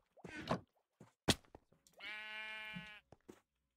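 Sheep bleating in a video game, one drawn-out, wavering bleat after a few short clicks and knocks, heard alone and fairly close.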